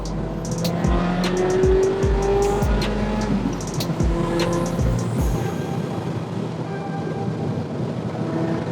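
A Ferrari F355's engine revving and accelerating, loud and close with repeated sharp throttle blips and rasping surges over a constant rumble, settling into a steady roar.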